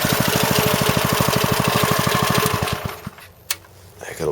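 A snow blower engine idles with a steady, rapid chugging pulse for about three seconds, then cuts out and falls quiet, leaving a faint click and some distant noise.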